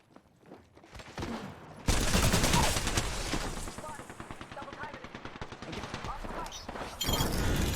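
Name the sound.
gunfire in the video game Apex Legends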